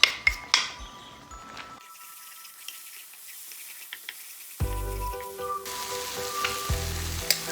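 Shallots hit split coconut cream in a pan and set off a loud, steady sizzle after a couple of sharp clinks and a quieter pause, with the frying hiss filling out strongly in the second half.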